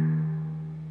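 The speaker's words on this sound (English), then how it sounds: "to begin part 1, you're going to play your top string open" An electric guitar sounds its open top string once, a single clear sustained note that rings and slowly fades, near and fairly quiet, alone.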